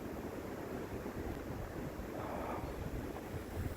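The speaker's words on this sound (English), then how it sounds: "the wind is just crazy" Strong wind roars steadily across an outdoor wedding ceremony site during a snow storm, a constant broadband rush with gusty buffeting, loud and continuous with no voices.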